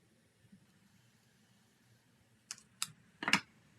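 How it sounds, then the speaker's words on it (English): Scissors snip through a paper snowflake in a few short, crisp cuts near the end, preceded by quiet handling noise and no talking. "I'm going to cut this snowflake pretty much in half"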